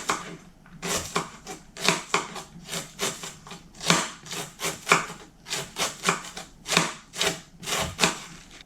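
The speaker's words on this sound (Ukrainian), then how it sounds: "Шинкую капусту." A knife shreds half a head of cabbage, about one kilogram, on a board, giving rapid rhythmic crisp chopping strokes in close, steady bursts with brief pauses and no talk.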